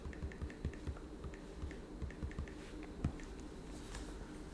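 Fingers tap an email out on an iPad touchscreen, a quick irregular run of soft clicks and thuds heard close and quiet, without speech.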